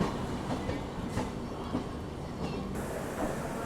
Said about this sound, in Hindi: फिर से नॉर्थ ईस्ट एक्सप्रेस आगे निकल रही है हमारे।